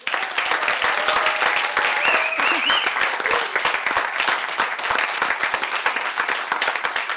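A studio audience applauds a singer at a live radio broadcast: dense, steady clapping that holds evenly for about seven seconds, with a few whoops or cheers rising briefly near the middle.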